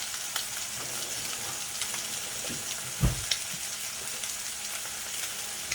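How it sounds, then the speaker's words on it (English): Vegetables cook and steam in a covered pan, giving a steady, soft frying sizzle and hiss, with one brief louder knock or clatter partway through and no talk. "we're gonna cover up and just let the vegetable cook and steam at the same time"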